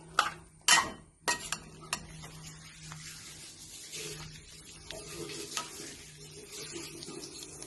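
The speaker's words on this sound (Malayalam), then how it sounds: "ഇനി ഇത് നമുക്കൊന്ന് ഇളക്കി ചേർത്തിട്ട് മൂടി വെച്ച് കൊടുക്കാം" A spoon scrapes and clinks around a pan of brinjal curry in a few quick strokes, then the curry stirs and sizzles softly with occasional taps.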